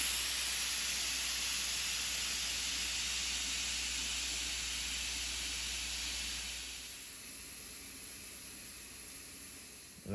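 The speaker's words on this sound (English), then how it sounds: "And looks like our rice is done. I see that steam coming out." Steam hisses steadily and loudly from a pot of cooking jasmine rice as a continuous airy rush, which drops off to a much quieter level near the end.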